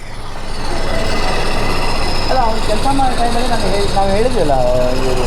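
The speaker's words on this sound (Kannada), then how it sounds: "ಅಲ್ಲ ಇದು ಸ್ಪ್ಲೆಂಡರ್ ನಾಯ್ಸ ಹೇಳಿ ನೀವೇ ಈ ರೇಂಜ್ಗೆ ಇಂಜಿನ್ ನಾಯ್ಸ್ ಬರ್ತಾ ಇದೆ" A Hero Splendor motorcycle engine running with an abnormal noise that appeared after about 3,000 km. It makes a loud, steady mechanical drone throughout, and a voice sounds over the latter half.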